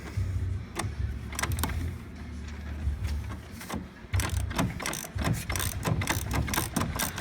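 A socket ratchet clicks in rapid bursts while loosening a 9/16 bolt on the chain case gear of a Polaris Ultra 680 snowmobile, close and loud, with pauses between strokes.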